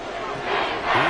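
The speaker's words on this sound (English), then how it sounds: "This crowd trying to force a false start here." Roaring stadium crowd in the Madden 24 football game, a loud sustained wash of cheering and yelling that swells toward the end of a brief moment.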